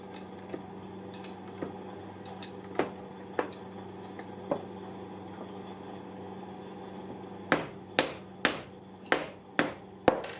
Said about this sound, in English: The fixture is gently tapped with a hide mallet until the detents are just proud of the fixture assembly face